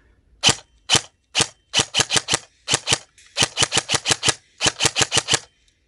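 An airsoft MK18 rifle with an electronic trigger fires single shots of 0.28 BBs. Sharp, loud, close cracks come one at a time, then in quick uneven runs of four or five separated by short pauses.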